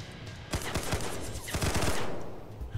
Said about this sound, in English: Jeez, that sounds pretty powerful, that gun.